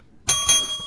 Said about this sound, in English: when you hear that's the waffle bell